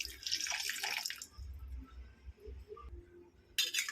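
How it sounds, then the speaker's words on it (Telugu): Water poured into a pot of small-fish curry, a close splashing trickle followed by fainter dripping and a final brief splash. "ఇందులో కొంచెం నీళ్ళు వాటర్ పోసుకుందామండి"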